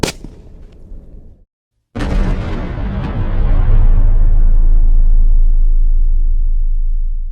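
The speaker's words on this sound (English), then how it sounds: "Finally, the airbag exploded just the way we wanted it to." A car airbag fired from a 12-volt supply goes off in one sudden, very loud, close blast after a brief silence, followed by a long roaring rush that slowly fades.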